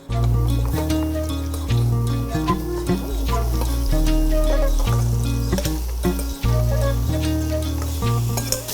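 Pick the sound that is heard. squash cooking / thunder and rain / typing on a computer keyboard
squash cooking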